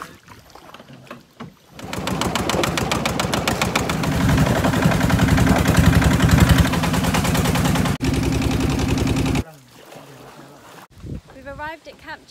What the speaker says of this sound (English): Going up river on the boat now